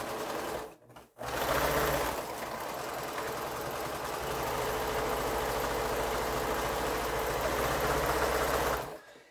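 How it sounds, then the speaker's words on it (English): A sewing machine stitches quilt pieces in one long steady run, a loud continuous motor whir and needle buzz after a brief start-stop at the beginning, ending abruptly. "So I'm going to go ahead and sew these before I trim them."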